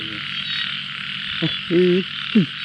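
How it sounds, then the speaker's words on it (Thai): Frogs croak by a canal in a palm plantation at night, a few short, distinct calls over a steady high insect drone. "เสียงกบเสียงกบทั้งปุ่นครับ"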